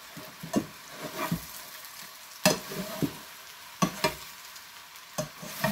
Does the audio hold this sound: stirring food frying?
yes